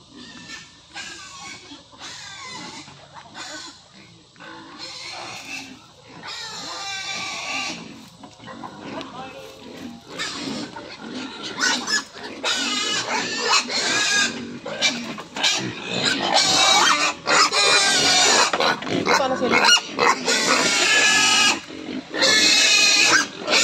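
Pet pigs grunt and squeal in a farm pen, a busy stream of snorts and shrill cries that grows louder and denser toward the end, with a person talking intermittently among them.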